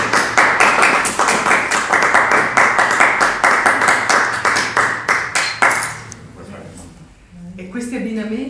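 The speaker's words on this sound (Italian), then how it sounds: "Applauso." At a civic award ceremony for a gelato maker, a small group claps in a rhythmic, fairly close series of hand claps that tapers off after about six seconds, followed by a voice speaking.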